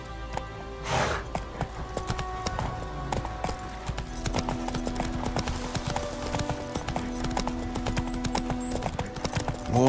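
Roach, a horse in The Witcher 3, galloping with rapid, rhythmic hoof clip-clops that come close and clear, a brief whinny near the start and harness jingle over game ambience.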